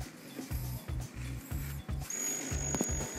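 Screws being driven into wooden chicken coop panels with a power driver, a series of short buzzing bursts in an uneven rhythm, close and fairly loud, with no talking.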